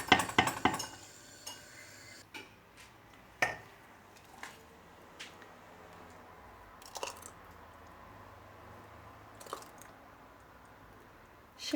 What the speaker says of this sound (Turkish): Şimdi kavanozlamaya başlıyorum